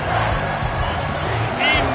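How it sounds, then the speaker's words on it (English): Stadium crowd at a football game roaring loudly on third down, a dense wall of cheering voices swelling steadily throughout, with speech mixed in. "this crowd is bringing down the house"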